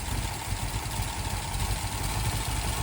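A 1969 Ford Mustang Boss 429 with its big V8 idling after a cold start, a steady, dense low rumble close by with no talk over it.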